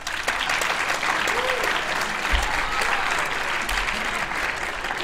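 Steady audience applause at a debate awards ceremony fills the hall for the whole stretch, dense and even with a few low thumps, no voices on top.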